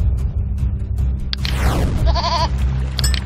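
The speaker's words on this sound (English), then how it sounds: "A goat!" A goat bleats in the puzzle video game There is no Game, a short wavering cry that follows a rushing sweep, set against low background music.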